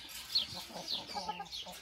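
Domestic hens clucking nearby in a poultry yard, a short run of soft, low clucks and chatter that sits quietly in the background.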